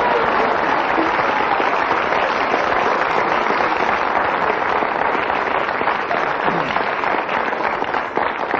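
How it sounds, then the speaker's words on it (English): Sustained, dense applause from a studio audience and panel at a radio panel game, steady and loud throughout with no pauses. "not only did the audience clap ecstatically, but also the other panelists clapped"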